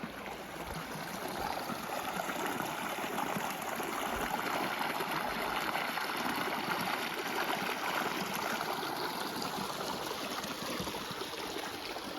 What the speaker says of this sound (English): Little early morning stream crossing